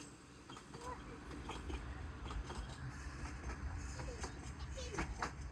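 A train passes with a steady rumble and faint clacking from the rails, somewhat distant, under outdoor background noise.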